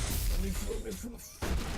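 Sniper rifle fire in a video game: a couple of sharp, booming shots cut through a dense bed of in-game noise, loud and close.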